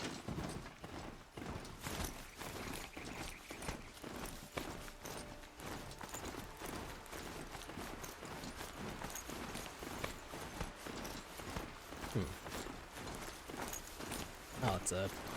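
Steady clip-clop hoofbeats of a riding mount in the Horizon Zero Dawn video game, a rapid even gallop rhythm that carries throughout, with mechanical whirs and a voice talking now and then.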